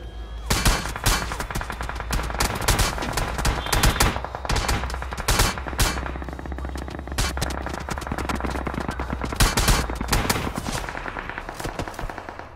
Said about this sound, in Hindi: भाई साहब फायरिंग देख रहे हो